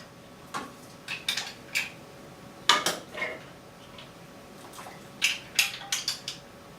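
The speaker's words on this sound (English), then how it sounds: "Take a slotted spoon, pop some of our mussels in the plate" A slotted spoon scooping steamed mussels cooked with Gewürztraminer onto a plate: clustered clinks and shell clatters in short bursts with quiet pauses between, close and clear with no talk.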